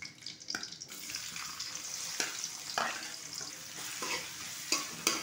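Chopped onion frying in a pan for a chicken and flat bean dish, a close, steady sizzle broken by several sharp stirring scrapes.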